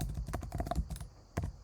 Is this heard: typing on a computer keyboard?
yes